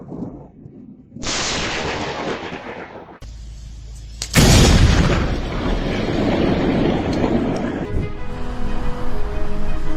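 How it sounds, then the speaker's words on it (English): Lightning strikes a few centimeters from a passenger car on a highway, setting off a sudden loud bang and crackling blast that dominates the mix, with earlier rumbling noise and a lingering roar afterward. "a lightning bolt strikes just a few centimeters away from a passenger car"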